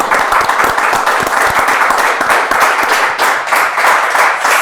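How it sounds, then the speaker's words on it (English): Loud, continuous hand clapping for a podcast guest, many claps blending into a steady rattling wash close to the microphone. "One more time, hand clap for Nanette coming through tonight."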